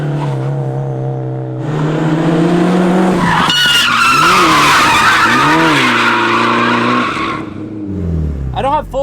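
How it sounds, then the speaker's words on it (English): A Mitsubishi Evo 6.5 TME RS does a second-gear flick into a drift, the engine revving up and holding before loud, sustained tire skidding and squeal close by, then easing off near the end. "I want to see if I can do this like a second gear flick and see what happens."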